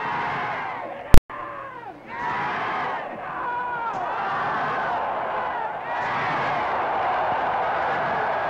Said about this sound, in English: Flag waving, vociferous crowd of Cosmos faithful lends a European flavor to the North American Soccer League Championship match